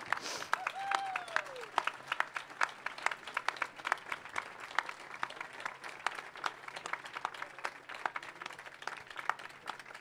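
Scattered outdoor crowd applause at a march for life in Ljubljana, distinct sharp claps from many hands, fairly faint and sparse, with a brief whistle-like tone near the start.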